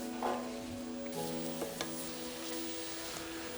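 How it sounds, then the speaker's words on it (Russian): Onions fry slowly in a pot for Azerbaijani kourma bozbash, giving a steady, soft sizzle with a few faint clinks, close and alone without talk. "лук надо жарить медленно"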